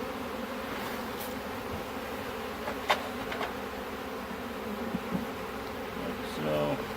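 A package of honey bees being installed in a hive outdoors fills the air with a steady swarm buzz. A few faint knocks and taps from the hive work come through, with faint talk in the background.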